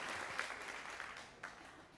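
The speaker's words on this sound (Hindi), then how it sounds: "जोरदार तालियों से आमंत्रित करें अधीक्षक महोदय" Steady applause from an audience at a district jail event, a dense wash of clapping that holds through and eases slightly near the end.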